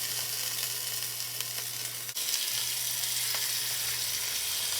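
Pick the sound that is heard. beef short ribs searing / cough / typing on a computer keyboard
beef short ribs searing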